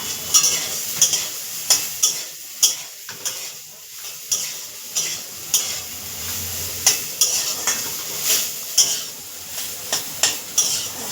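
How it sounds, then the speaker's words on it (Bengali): Soybean chunks fry in a pan for a vegetarian curry, with a continuous sizzle broken by a quick, regular rhythm of spatula scrapes and clinks against the pan. "ভাজা হচ্ছে সয়াবিনটা প্রথমে ভেজে নিতে হবে"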